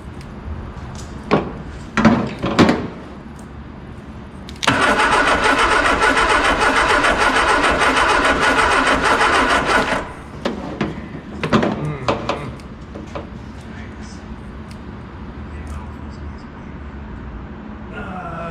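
An Austin Healey Sprite engine, left sitting for 40 years, cranks and coughs a few times, then catches and runs roughly for about five seconds before dying, followed by more sputtering attempts and clanks nearby.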